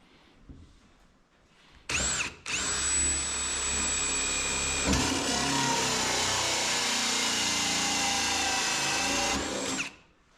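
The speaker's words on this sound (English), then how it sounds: "So I'm gonna drill a hole for the master cylinder." A hole saw cuts through metal for a brake master cylinder mount on a custom fabricated brake pedal assembly, a steady loud power-drill whine starting after a brief burst, running about eight seconds, then stopping.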